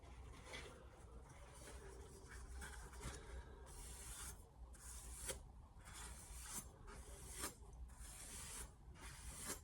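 A knife is deburred on a Sharpel diamond plate sharpening stone in quiet, close, repeated scraping strokes at an uneven rhythm, with no talking.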